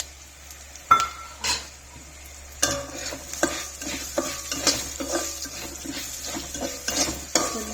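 Coriander seeds sizzle and crackle in hot oil while a utensil scrapes and stirs them in a metal pan, with steady frying hiss and repeated close clinks and scrapes, no voices.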